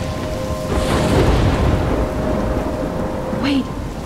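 A thunderstorm with heavy rain in the video game Life Is Strange, a loud, dense roar of rainfall with a rolling rumble of thunder swelling through the middle, with no talking.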